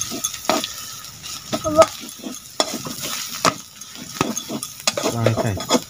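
Chicken masala sizzles in a pan in a village kitchen while a utensil stirs it, giving repeated scraping clinks and metallic taps over a steady frying hiss.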